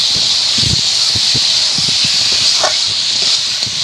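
Chopped meat and fried potatoes sizzle steadily in a pan as they are stir-fried for meat ghugni, a loud continuous hiss broken by soft scraping and stirring knocks.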